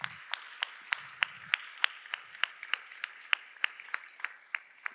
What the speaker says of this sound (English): the biggest round of applause for yourselves